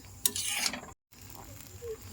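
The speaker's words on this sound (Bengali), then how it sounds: "দেখো আমি একটা একটা করে পরোটা সব ভেজে নিচ্ছি।" Parathas frying in a pan, a soft close sizzle with a brief scrape near the start, interrupted by a short gap of silence, then continuing quietly.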